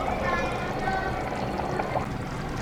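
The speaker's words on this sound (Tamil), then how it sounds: "ஸோ இது நல்லா கொதிக்கட்டும்." Rice boils in a pot of salted water for a country chicken biryani, with a steady bubbling, gurgling wash throughout, close and fairly loud, with no clear talk.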